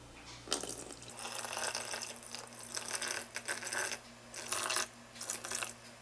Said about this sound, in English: I'm going to zero out my scale and add 320 grams of water.